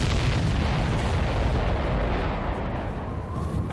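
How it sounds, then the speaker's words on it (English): In the video game Ace Combat 7, a supply ship blows up with a heavy, rolling explosion that fills the whole stretch as a dense, roaring rumble, slowly easing toward the end. "Did you see that explosion? Looks like that's one of them down."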